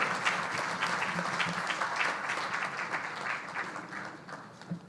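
An audience in a conference room at a Goa summit breaks into sustained applause after a speech, a thick wash of clapping that holds steady and tapers slightly toward the end.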